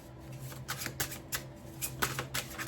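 Close, quiet riffling of tarot cards being shuffled, a series of short crisp flutters in an irregular rhythm.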